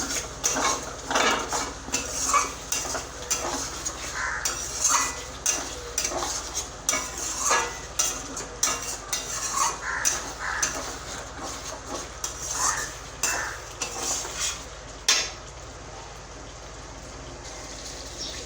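A spoon stirs sour yogurt into a pan over a very low gas flame, making rhythmic scraping and clinking against the metal with soft sizzling underneath. The stirring carries on steadily, then stops near the end.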